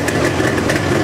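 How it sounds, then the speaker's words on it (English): A twin-cylinder motorcycle engine idles slightly high just after a cold start, giving a loud, close, steady low rumble with a regular uneven pulse and no voices. "It's a cold start, so that's why it is idling little higher."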